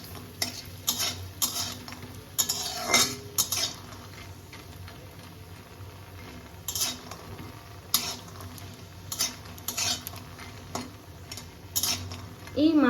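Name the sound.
frying lentil dumplings (bori) in hot oil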